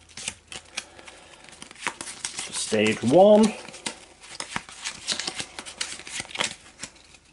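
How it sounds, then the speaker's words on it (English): A small stack of Eldritch Horror board game cards is shuffled and cut, brief crisp riffling and tapping close by, with someone talking over it. "And we'll give those a shuffle."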